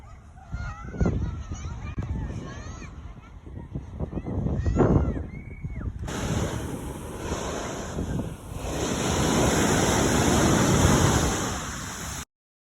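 Surf on Sandy Hook Beach at the Jersey Shore on a beach day, a steady wash of breaking waves that swells louder in the second half, with geese honking and brief voices mixed in early on.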